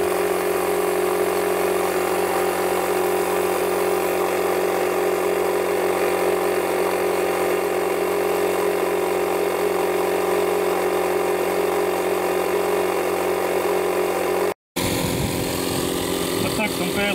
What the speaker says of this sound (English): let's see if we can air up a tire with it